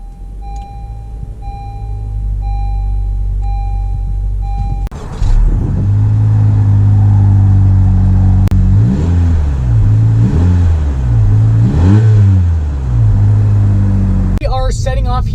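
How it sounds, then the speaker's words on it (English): A 2019 Honda Civic Sport Touring hatchback sets off after a steady in-cabin chime. The engine note then climbs and drops repeatedly through several gear changes, loud and close inside the car. "Setting off here in the 2019 Honda Civic Sport Touring"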